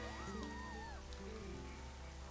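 Steady rain hisses in The Legend of Zelda: Twilight Princess, a soft continuous patter beneath gliding tonal music.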